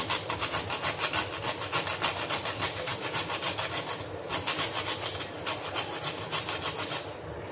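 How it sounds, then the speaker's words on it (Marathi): Whole nutmeg scraped on a small hand grater in a home kitchen, a quick regular rasping rhythm of short strokes, close and fairly loud, with one brief pause before it resumes. "आता मी यामध्ये जायफळ टाकलेलं आहे थोडंसं असं किसण्याने किसून"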